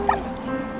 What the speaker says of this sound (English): The dog. Hey, doggy.